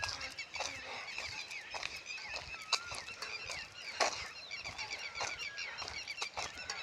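Geese or other fowl honk and call repeatedly along a walking route on the Narmada pilgrimage path, a busy chorus of overlapping calls at moderate distance, fairly faint, with no speech.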